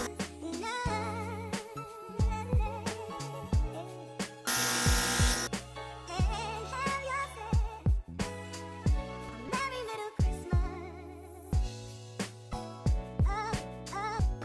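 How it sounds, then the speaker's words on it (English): A makeup airbrush sprays cream contour paint in one loud, roughly one-second burst of hiss, set amid rhythmic background music that plays before and after it. "I'm using the airbrush because this isn't working."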